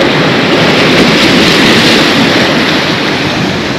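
Sea waves wash steadily onto Dolphin beach in Lazarevskoye on a quiet November day, a loud, continuous broadband roar of surf and wind with no voices.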